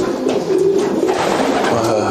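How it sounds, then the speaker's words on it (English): Pigeons cooing in a large racing-pigeon loft, several soft, throaty coos repeating close by over a steady background of bird activity. "You see, big loft. There's pigeons."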